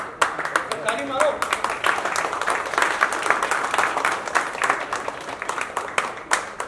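Cast and crew clap together at a birthday celebration on a TV series set, a dense, steady round of applause lasting several seconds with voices mixed in.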